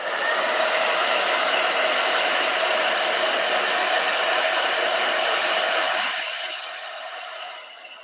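A blow dryer runs steadily with a loud, even whoosh, easing down and quieter in the final couple of seconds; no one speaks.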